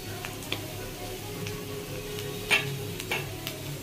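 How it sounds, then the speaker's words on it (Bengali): Onion fries in a little oil in a wok, a low steady sizzle with a few light stirring taps and clicks, fairly quiet throughout. "তো ডিম ভাজা কড়াইয়ের মধ্যে আমি একটু তেল অল্প দিয়ে দিয়েছি। এবার পেঁয়াজটাকে ভাজবো।"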